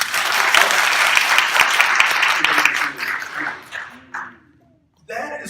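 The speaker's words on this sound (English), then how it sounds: "Can I get a round of applause for me?" Loud applause from a church audience swells at once, holds strongly for a few seconds, then tapers off, and a voice resumes speaking as the clapping dies away.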